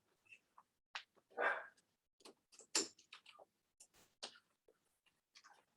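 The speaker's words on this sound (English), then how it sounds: "That is my dog, Jack, who is barking at the wind" A puppy barks in short, sharp bursts indoors, with several separate yaps and whimpers spread out and fairly faint, no talking.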